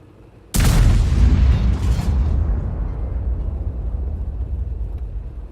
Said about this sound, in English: But Demontaxidriver is continuing to fire on the enemy.